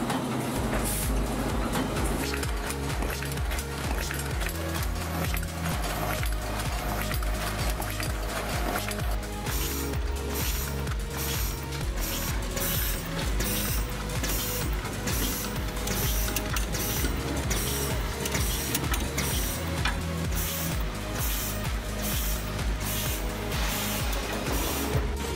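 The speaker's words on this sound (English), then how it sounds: "In this machine, dough rolling, shaping, and filling into the tray are carried out to make a delicious gyoza ravioli." An automatic gyoza machine that rolls, shapes and fills dough into trays runs with a busy, rhythmic mechanical clatter, repeating clicks and thumps over a steady whirring drone.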